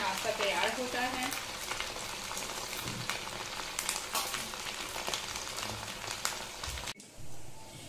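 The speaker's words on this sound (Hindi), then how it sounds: "तेल गर्म ही है, हम धीरे धीरे अपने रोल्स को इसमें डाल देंगे" Semolina and potato rolls lowered into hot oil to fry, giving a dense, crackling sizzle with sharp spatters close by; a brief voice sounds early, and the sound cuts off abruptly near the end.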